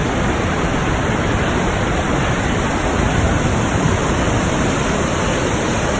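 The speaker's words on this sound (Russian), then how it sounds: "и это Вернер Фоллс, водопад Вернер." Vernal Falls in Yosemite roars steadily at close range, a dense, unbroken wash of falling water and spray filling the whole scene without any voices.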